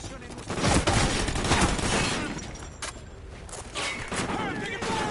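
Video game gunfire in Call of Duty Ghosts story mode: dense bursts of shots crackle and boom across the whole stretch, with a few sharper single reports, loud and continuous, with a voice calling out over the shooting.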